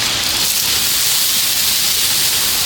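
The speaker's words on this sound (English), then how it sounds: "I'm going to warm the kale on the side" Kale warming in a pan, a loud, steady broadband hiss of steam and sizzle that carries unbroken throughout with no talking over it.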